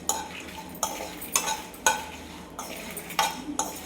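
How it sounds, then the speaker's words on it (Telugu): Dry coconut and spices are stir-fried in a pan, a spoon scraping through them in regular strokes about twice a second over a faint, soft sizzle. "ఇలా ఎండు కొబ్బరిని కూడా కొంచెంసేపు ఫ్రై చేసుకోవటం వల్ల టేస్ట్ అనేది బాగుంటుంది."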